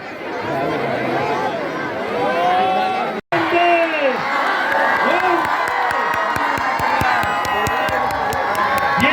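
A big crowd at the start of a marathon run against addiction cheers, whoops and shouts loudly and continuously, with excited voices and children's calls mixed into the roar after a brief cut.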